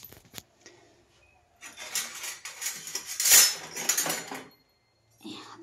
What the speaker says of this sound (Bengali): চামচ দিয়ে তুলতে হবে, শীতে সব জমে গেছে।